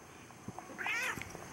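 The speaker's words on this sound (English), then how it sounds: "Meow, meow." A cat gives one drawn-out, high meow close to the microphone, fairly quiet, with faint rustling around it.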